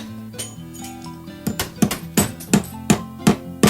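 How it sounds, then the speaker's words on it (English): Soundboard hammering effect in which hammer blows break glass: a run of sharp, loud, evenly spaced strikes with bright clinking, ringing shards after each hit, alone with no talk. "got hammering sounds, got that hammering, which is breaking glass as he hammers"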